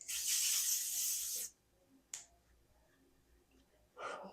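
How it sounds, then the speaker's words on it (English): L'Oreal Infallible setting mist sprayed onto a made-up face, one long pressurized hiss of about a second and a half, followed by two short bursts with quiet handling sounds in between. "she goes in with a setting spray"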